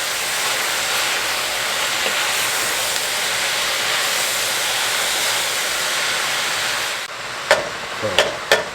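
Chili meat sizzles in a pot on medium heat as it is stirred, giving a steady, close hiss, followed near the end by a few sharp clacks of the spoon against the pot.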